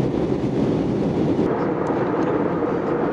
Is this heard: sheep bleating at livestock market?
no